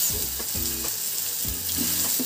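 Besan toast fries in a little oil on a pan over low gas, a continuous hiss of sizzling running throughout with some low tonal clatter and scraping underneath.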